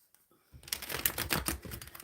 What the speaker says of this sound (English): Let's get the shuffling.